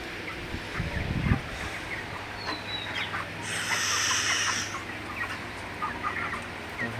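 Broiler chickens cluck in a crowded group while eating feed in hot evening weather, a steady busy chorus of soft calls with one louder burst near the start and a brighter stretch in the middle, and no talk.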